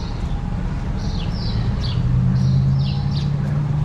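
Birds chirp in short, repeated high calls outdoors in the town of Bar Harbor, Maine, faint against a steady low hum of street and traffic noise.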